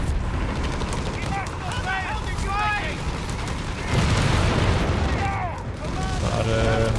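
Artillery explosions in the video game Company of Heroes 3 land as booming impacts and crackling blasts amid game battle noise, with a commentator talking over them.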